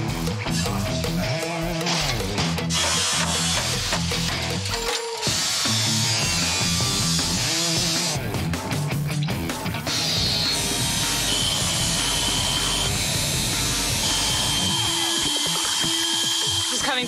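A power tool grinds through a car axle so the gearbox can come out. A loud, gritty, ratcheting whine carries on with constant clatter and shifting pitch throughout, with occasional surges and brief dips.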